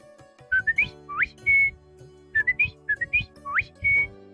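A blind man from Bilaspur whistles an imitation of a Samsung mobile message alert, a quick run of rising chirps and a held note, played twice close and clear.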